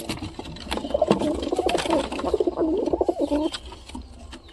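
A pigeon coos in a low, rolling, repeated call, close by, with faint rustling and clicks around it.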